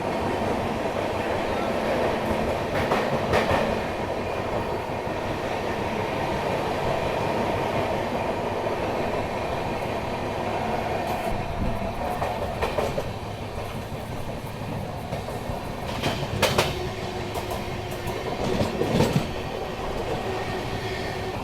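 Bhubaneswar Duronto Express running at about 55 km/h through Tundla Junction, a continuous rumble with wheel clatter and occasional squeals and track clicks heard from aboard the train.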